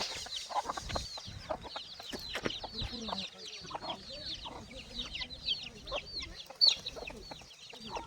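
A flock of free-range country chickens with chicks and a rooster clucks continuously, overlapping calls near and far, with occasional voices talking in the background.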